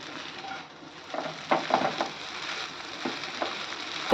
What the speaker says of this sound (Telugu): ఇప్పుడు ఇందులోకి ఫ్రై చేసుకున్న పొటాటోస్ వేసి కలుపుకోవాలి.